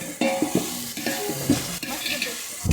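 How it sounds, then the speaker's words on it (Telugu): Ginger-garlic paste frying in oil for chicken pulao, sizzling steadily while a spoon stirs and scrapes the pan in several distinct strokes. "అల్లం వెల్లుల్లి పేస్ట్ కూడా వేసుకొని బాగా వేయించుకోవాలి ఫ్రెండ్స్"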